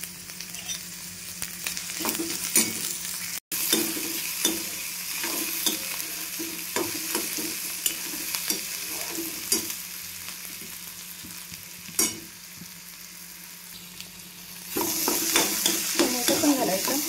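Cumin seeds and onion fry in hot oil with a soft, continuous sizzle, broken by scattered clicks and scrapes of stirring in the pan. A louder burst of sizzling comes near the end.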